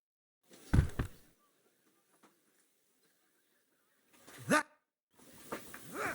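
A dog barks in the video game Kingdom Come Deliverance II, three separate loud barks spread out with quiet gaps between them.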